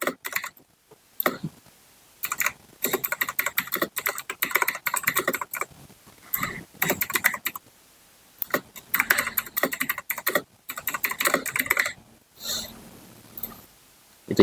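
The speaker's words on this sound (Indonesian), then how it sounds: "Ketikkan saja kasur." Typing on a computer keyboard: close, fast bursts of clicking keystrokes separated by brief pauses, steady and alone with no talk.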